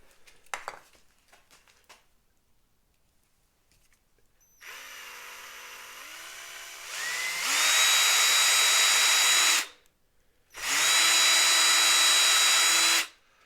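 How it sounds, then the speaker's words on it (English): A power drill starts with a rising whine, runs steadily into plastic, stops briefly, then drills again in a loud continuous burst, close by with no talking. "I'm going to do a little test drill now."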